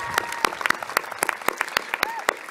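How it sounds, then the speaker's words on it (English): Scattered applause from the audience at Huntington High School's 160th commencement ceremony: sparse, sharp individual claps with a few voices and brief tones underneath. "How about another round of applause for them?"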